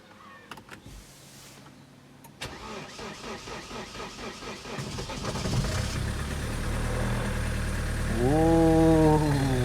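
A car engine cranks with a rapid whirring starter, catches, and settles into a steady idle that grows louder and rises in pitch as it warms up, close by with no talking.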